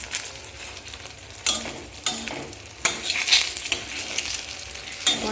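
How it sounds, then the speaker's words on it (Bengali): Eggplant fries in hot oil with a steady close sizzle, broken by several sharp stirring scrapes and bursts of spattering as the pieces are turned, with no voices. "কথা বলে বলে দেখো বেগুনটা আমার ভাজা হয়ে গেছে।"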